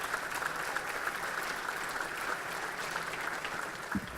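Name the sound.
round of applause for Congressman Ted Deutsch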